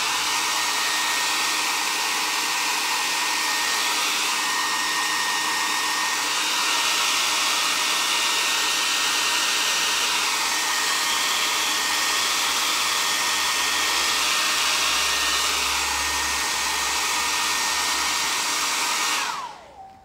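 A hair dryer blows steadily and loudly on a freshly painted piece for about twenty seconds, its whirring roar constant and close before it switches off abruptly at the end.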